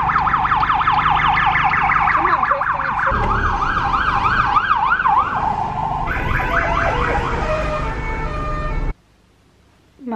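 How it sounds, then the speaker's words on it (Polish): Ambulance sirens wail loudly and nearby in Zakopane, several warbling tones overlapping and shifting pitch before cutting off abruptly near the end. "Karetki, śmigłowce, helikoptery."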